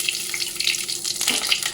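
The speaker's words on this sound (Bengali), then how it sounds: "ভালো করে এগুলো একটু ভাজা ভাজা করে নেব" Dry red chillies, a bay leaf and panch phoron crackle and sizzle in hot oil, a steady close frying hiss with scattered pops and a brief stir near the end, no talking.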